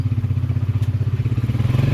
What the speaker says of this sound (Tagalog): Kawawa yung motor ni Nunoy.